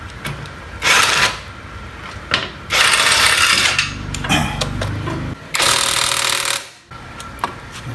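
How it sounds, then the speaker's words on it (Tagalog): A ratchet works loose a bolt on the exhaust of a Honda Click 125 scooter, giving loud bursts of rapid mechanical clicking and grinding between pauses, close to the mic with no talk. "Hindi ko naman natatanggalin yung tornilyo, niluwagan ko lang."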